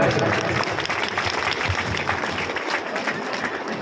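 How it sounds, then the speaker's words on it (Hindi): Gathering at a Shrimad Bhagavat Katha religious event in Ramgarh claps together, a broad sustained burst of hand-clapping with some voices mixed in. "सभी तालियां बजाएं, सभी तालियां बजाएं"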